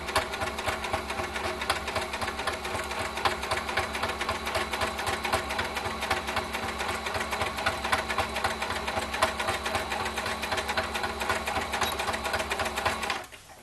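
A sewing machine runs steadily, stitching fabric for Christmas cutlery holders with a fast, even mechanical whir close by, then stops abruptly near the end.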